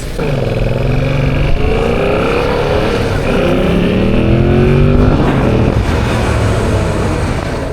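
A Yamaha MT-07 motorcycle, a 2025 700 cc model, revs loudly and steadily while riding, its rising engine harmonics climbing through gear changes, close and continuous with no talk over it.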